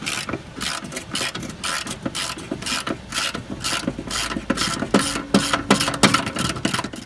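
Ratchet wrench loosening the lower control arm bolts on a BMW E34, a rapid run of close, sharp clicking strokes repeating steadily throughout with a faint metallic tone near the end.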